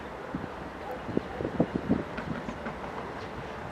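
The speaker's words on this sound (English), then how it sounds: "The train we've been waiting all day for. The autoracks with a war bonnet trailing second." A freight train hauling autoracks, with a warbonnet-painted locomotive trailing second, rumbles past with irregular clanks and rattles under steady wind noise on the microphone, moderately distant.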